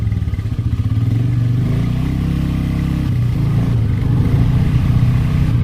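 A motorcycle drones steadily on a highway between Haldwani and Dehradun in India, its close, loud engine hum shifting pitch briefly mid-ride with wind noise over the top.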